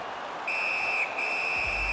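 A referee's whistle in an NHL 17 ice hockey video game match between the Walleye and Everblades gives one sharp shrill blast, briefly breaks, then sounds again and holds, loud and clear.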